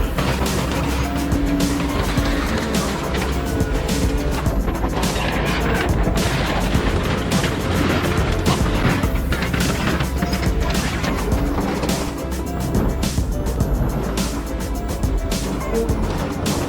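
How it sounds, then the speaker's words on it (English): Loud, continuous metallic crunching and banging as a car crusher machine crushes an old car, with dense clattering impacts throughout. "the sheer force of the machine crushing everything in its path"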